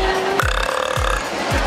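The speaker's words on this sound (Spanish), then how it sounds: "se viene la competencia de eructos." A loud, close burp during a burping contest after a meal, followed by a couple of short, low, croaking gulps in a rough rhythm. No talking is heard.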